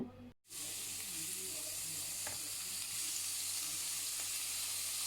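Salt-marinated pork sizzles in hot oil in a pan, a steady loud frying hiss that holds for about five seconds after a brief drop, with a few faint clicks and no talking.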